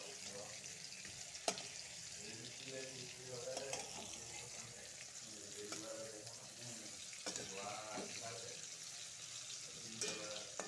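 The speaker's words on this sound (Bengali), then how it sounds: "দুই পিঠে এভাবে লাল লাল করে ভাজবো।" Ash gourd jali fritters frying in mustard oil, a steady soft sizzle with occasional clicks and a faint water-like hiss, under a quiet speaking voice.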